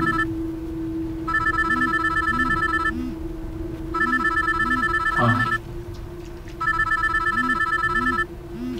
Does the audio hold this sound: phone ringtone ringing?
yes